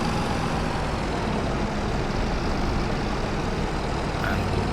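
A Massey Ferguson tractor engine in Farming Simulator 22, a steady loud diesel drone with broad rumbling noise throughout and no talking.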